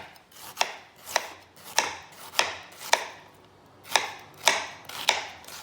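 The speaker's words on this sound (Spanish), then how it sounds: "La cebolla la vamos a partir en medias lunas delgadas." An onion being sliced into thin half-moons on a cutting board, about nine evenly spaced knife chops with a sharp thud each, close and clear with quiet gaps between.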